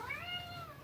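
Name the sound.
cat meowing for its food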